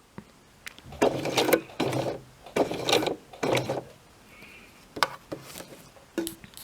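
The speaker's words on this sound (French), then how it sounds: "Donc là on pique jusqu'au point." Sewing machine stitching a dress, a series of short quiet stitching bursts with brief gaps between them, close, plus a few light clicks near the end.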